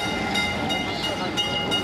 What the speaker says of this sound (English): For over 150 years, Kolkata streetcars have been part of the Indian city's cultural fabric.